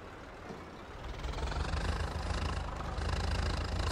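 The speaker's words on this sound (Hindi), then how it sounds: "स्टार्टिंग तो बढ़िया की ट्रैक्टर में" A Swaraj 855 tractor engine in Farming Simulator 22 catches and settles into a steady, rumbling idle that grows louder after the first second, with no talk over it.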